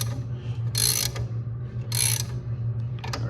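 Socket ratchet clicking in two short bursts while tightening a rear lower arm bushing bolt on a 1972 Lincoln Mark IV, close up over a steady low hum.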